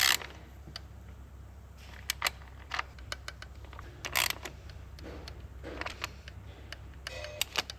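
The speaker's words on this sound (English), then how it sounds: "Torque it to 5 Newton meters." Torque wrench tightening an injector bolt on a VW Passat 2.0L diesel engine, a series of sharp mechanical clicks and ratcheting ticks scattered over a faint low hum, fairly quiet and close.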